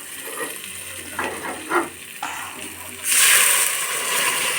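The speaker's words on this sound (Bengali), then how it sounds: "এবার এর মধ্যে দিয়ে দেবো পরিমাণ মতো জল।" Water poured into a fish curry frying with ginger and turmeric bursts into a loud, close sizzling splash partway through, after a stretch of quieter frying beneath a voice.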